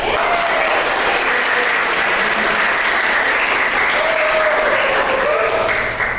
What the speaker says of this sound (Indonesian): Kita tepuk tangan dulu yuk buat hari ini.